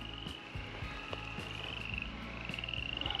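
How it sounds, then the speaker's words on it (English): Frogs croak in a chorus at a lake, rhythmic repeated calls close by over a continuous high insect trill, with no talking. "frogs croaking."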